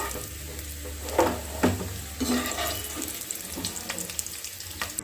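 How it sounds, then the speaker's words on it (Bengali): Potatoes frying in hot oil in a pan over a high flame, with a steady close sizzle and occasional clatter from stirring, with no talking. "তেলে আমি বাকি আলুগুলোকে আবার ভেজে নিচ্ছি।"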